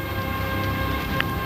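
Steady rain falls with a dense, even hiss and patter that stays constant and close throughout, with no voices.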